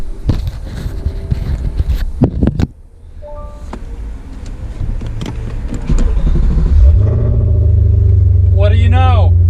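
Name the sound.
Audi RS4 B7 4.2 V8 engine starting after starter motor change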